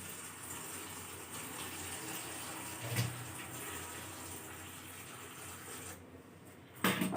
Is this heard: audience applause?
no